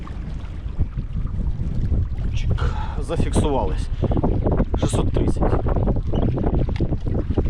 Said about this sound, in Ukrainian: Вітер роздувся